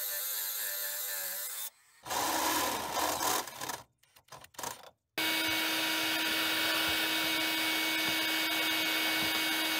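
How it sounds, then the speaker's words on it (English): A Dremel grinds paint and clear coat off steel at a grounding point inside a van, making a steady, close, buzzing whine with a brief break of scraping and rattling partway through. "we're going to take our Dremel and we're going to clear off the paint and the clear coat"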